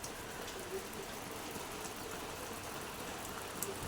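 Steady rain falls outdoors in a continuous, even hiss, soft and diffuse throughout, with a few faint patters standing out now and then and no voices.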